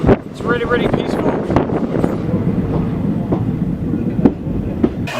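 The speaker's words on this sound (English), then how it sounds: "The train's going really nice, slow speed." A train rolls slowly along the rails through the Indian desert, giving a steady rumble with soft clickety-clack beats and breezy wind buffeting the microphone. Light voices sit in the background.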